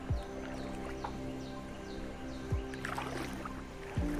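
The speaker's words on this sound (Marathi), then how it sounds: "व्हाळाचा आवाज येतात त्याच्यावरून तुमका समजा असं पाणी किती आहे" A swollen stream rushes through a Konkan farm flooded by sudden rain: a steady, dense wash of flowing water with a few soft knocks, continuous and fairly close, with no voices.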